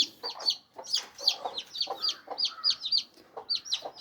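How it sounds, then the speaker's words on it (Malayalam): Many small chicks peep in quick, high-pitched chirps, overlapping in a busy, continuous chorus close by. "നമുക്ക് ആ കോഴി കുഞ്ഞുങ്ങളെ ഓരോന്നിനായിട്ട് എടുക്കാം"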